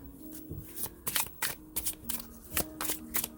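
Tarot cards being shuffled by hand in a series of crisp riffling bursts and soft slaps, close and fairly loud, repeating at an irregular rhythm with no voice over them.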